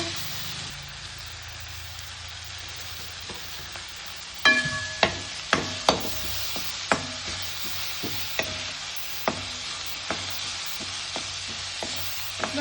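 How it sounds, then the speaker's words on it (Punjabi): Spices for paneer bhurji fry in a pan, a steady soft sizzle beneath repeated sharp scrapes and taps of a spoon stirring against the metal, close and fairly rhythmic. "ਹੁਣ ਇਹਨਾਂ ਨੂੰ ਮਸਾਲਿਆਂ ਨੂੰ ਆਪਾਂ ਤਰ੍ਹਾਂ ਪਕਾ ਲੈਣਾ"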